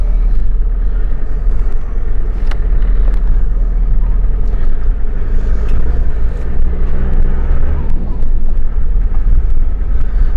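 A 1992 Land Rover Discovery 200tdi drives along with a steady, heavy diesel rumble and road roar heard from inside the cabin, loud and continuous with no pauses.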